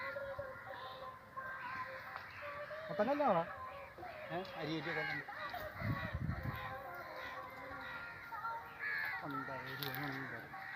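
Several crows caw repeatedly at moderate distance at Kakkathuruthu, harsh calls scattered across an outdoor scene with faint background activity.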